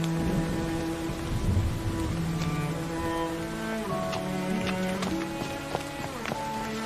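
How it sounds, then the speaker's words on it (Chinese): Steady rain falls in an outdoor scene from a period Chinese drama, a soft, even hiss running throughout beneath sustained music, with no voices. "下雨了"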